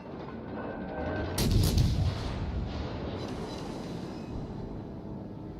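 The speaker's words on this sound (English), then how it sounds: "there seems to be a gun sound for cruisers, a gun sound for DDs, gun sound for battleships" Naval ship guns from a warship combat video game fire in one sharp, heavy blast that rolls off into a long low rumble over steady background engine and sea noise, no voices.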